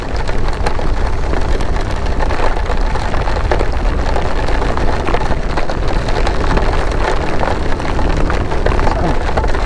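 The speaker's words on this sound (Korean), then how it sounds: "뭐 어디 가기만 하면 비가 와." Heavy rain pours down during a motorcycle trip around Jeju Island, a loud, dense, unbroken hiss of drops on surfaces that covers the whole stretch, with voices talking now and then.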